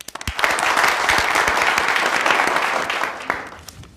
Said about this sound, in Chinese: 让我们以热烈的掌声欢迎吴局长给大家做指示。